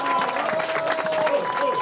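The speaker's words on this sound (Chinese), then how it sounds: "我们热烈的掌声欢迎这个活血归来的柯文哲主席" A gathering welcoming a party chairman at a legislative caucus visit fills with a burst of crowd applause and cheering, mixed with people talking nearby.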